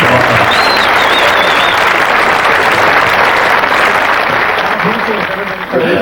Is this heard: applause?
yes